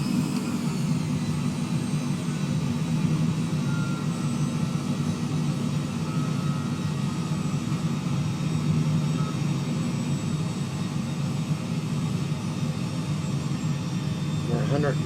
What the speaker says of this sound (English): We go on full flap.